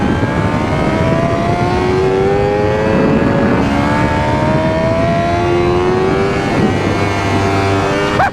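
A 2024 Honda Fireblade SP sport motorcycle engine revs hard on the road, its pitch climbing through the gears with quick upshifts between rising pulls, loud and close throughout.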